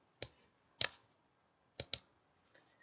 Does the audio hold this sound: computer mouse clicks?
yes